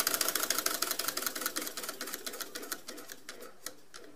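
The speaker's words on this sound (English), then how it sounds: "Alright, so that is my steam engine, first ever steam engine." A first homemade steam engine, built without machining, runs with a rapid, even ticking-chuffing beat that gradually slows and fades over a few seconds, close up and with no voices.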